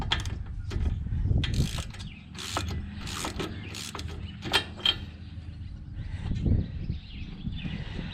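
A 13/16 socket wrench loosening a spark plug on a John Deere engine, a series of close, fairly quiet ratcheting clicks and metallic creaks in short bursts, with no speech.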